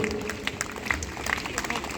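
A crowd claps steadily at a school sports day torch relay, the applause continuous and moderately distant while a voice talks over it.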